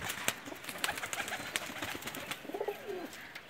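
Pakistani breeder pigeons, Ferozpuri Neeldumma among them, coo softly nearby, a rolling call near the end, amid sharp clicks and rustling in the loft with no talking.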